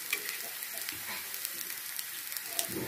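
Food fries on a low-medium flame, a quiet steady sizzle with small crackles and pops, alone without talk.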